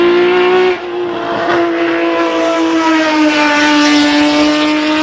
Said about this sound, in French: avec sous le capot un 6 cylindres en ligne Atmo qui fait un bruit incroyable